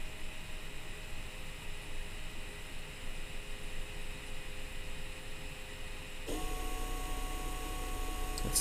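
Small fan driven by a motor through an HB-25 motor controller starts up after steady low hum, adding a louder whirring drone with tonal whine for the last couple of seconds, no talking.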